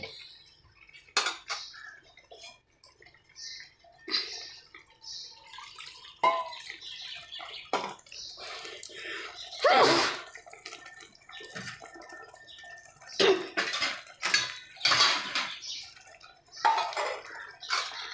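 Water is poured into a cooking pan during home cooking, with scattered splashes, drips and clinks of utensils against the pan at close range, irregular and intermittent.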